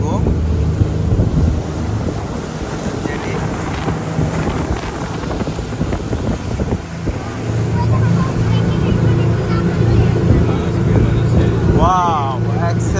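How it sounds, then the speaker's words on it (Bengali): A speedboat runs from Male to Maafushi in the Maldives, its engine droning loud and steady under heavy wind buffeting the microphone, with people talking over it throughout. "আমাদের মালদ্বীপ মালে থেকে এখন স্পিডবোট দিয়ে সরাসরি মাফুসিতে নিয়ে যাচ্ছে"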